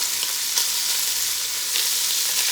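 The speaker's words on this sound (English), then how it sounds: "we're going to let this meat sit here, get brown before we start moving it around" Meat browning in a pot for navy bean stew, sizzling and frying in a steady hiss that stays loud and close throughout, with no talking.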